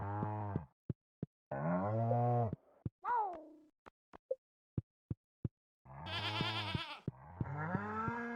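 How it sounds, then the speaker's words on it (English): Cows in the Stardew Valley video game moo in several drawn-out calls, separated by quick clicking sound effects and a brief rising chirp, clear and close against silence. "The brown cows, one of the white cows."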